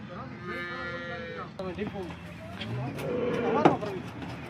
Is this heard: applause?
no